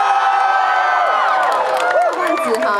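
A crowd at the Tainan baseball stadium during a music festival cheers, screams and claps loudly, with high shouts and whoops overlapping in a continuous dense roar.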